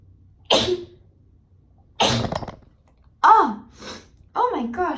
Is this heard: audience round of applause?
no